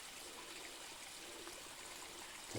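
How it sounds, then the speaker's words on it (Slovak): A small waterfall in Chmeľová gorge, Kopytovská valley, pours over wood, a continuous close rushing splash that stays steady with no voices. "Tu som nad tým ďalším vodopádikom"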